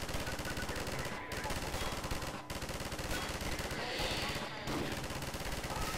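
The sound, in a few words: mounted turret machine gun fire in the video game Half-Life 2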